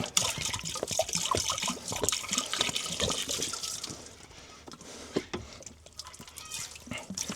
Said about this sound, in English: I'm going to pour it upside down. It's going to gurgle,